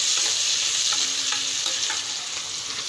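Curry leaves and spices sizzle steadily in hot oil for a mixed vegetable dish, a loud, continuous crackling hiss with small pops and occasional stirring, no voices.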